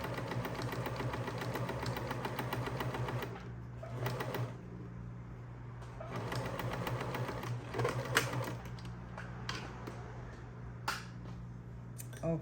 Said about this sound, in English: So I'm just sewing like one seam here